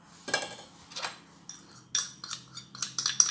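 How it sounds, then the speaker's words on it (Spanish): A hand whisk clinks against a bowl while mixing custard with milk and cornflour, giving a series of light, irregular metallic taps and scrapes, close and fairly quiet. "con la ayuda de las varillas vamos a mezclar esto bien"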